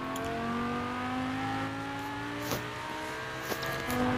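Lamborghini Huracan Performante in Forza Horizon 4, played with a Logitech G920 wheel: a steady, rising engine drone with a faint tire squeal, then a couple of sharp transient thumps near the end, with no talking.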